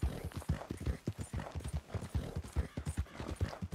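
Hooves clip-clop in quick, even beats as a horse moves along in Red Dead Redemption 2, near and clear, with no voices over it.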